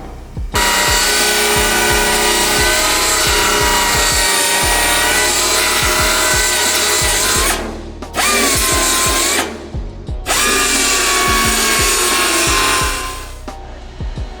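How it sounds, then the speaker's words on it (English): A belt sander with 80-grit abrasive belts grinds loudly and continuously against car floor metal to cut out spot welds, pausing briefly twice before spinning back up. "So today I'm using some Predator 80 grit sanding belts to get this chunk of floor out of here."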